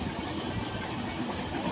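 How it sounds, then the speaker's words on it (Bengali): A moving train rumbles steadily from inside a carriage, a low, continuous roll with faint rattling and no talk. "ট্রেনে করে যাচ্ছি"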